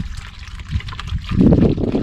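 Pond fountain from an Oase Filtral 9000 all-in-one filter, running water splashing and trickling steadily up close, growing fuller and louder in the second half.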